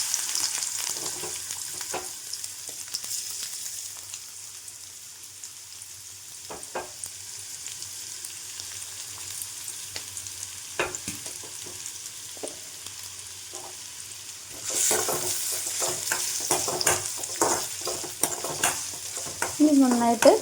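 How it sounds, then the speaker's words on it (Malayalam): Thin rounds of sliced ginger fry in hot coconut oil, a soft steady sizzle broken by occasional spatula stirs and scrapes. The frying swells louder and crackles more strongly near the end. "വെളിച്ചെണ്ണ ചൂടാകുമ്പോൾ നമുക്ക് അതിനകത്തേക്ക് അരിഞ്ഞു വെച്ചിരിക്കുന്ന ഇഞ്ചി ആഡ് ചെയ്യാം"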